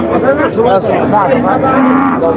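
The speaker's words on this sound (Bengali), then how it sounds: "আপনারা দেখতে পাচ্ছেন কিছু দেশি গরু কুরাজ গরু" Native cattle at a busy livestock market in Barobazar, bellowing in long, loud, drawn-out moos that overlap one after another close by, over a steady crowd hubbub.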